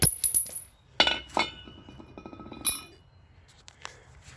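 A brake rotor comes off a Polaris RZR wheel hub with a few sharp metallic clinks and scrapes, loud at first, then fading into quieter taps.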